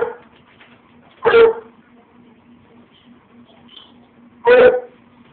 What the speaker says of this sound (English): Quit the barking.